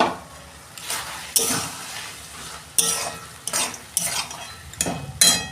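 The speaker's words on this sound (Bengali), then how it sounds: "দেখুন বন্ধুরা আমি ঢাকনা খুলছি" A lid lifts off a pot of cabbage cooked with fish heads on a gas stove, giving a few sharp metallic clanks over a soft, steady simmering sizzle and light utensil scraping.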